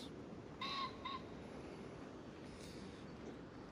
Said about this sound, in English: the birds chirping, and I can hear the river